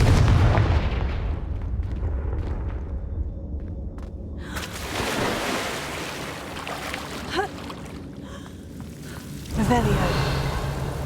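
A Confringo blasting spell from Hogwarts Legacy bursts with a deep booming thump over steady game ambience, followed by crackling debris and a second lighter impact near the end, loud and close, without speech.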